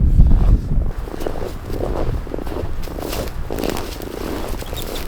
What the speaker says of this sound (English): Super windy and quiet snow.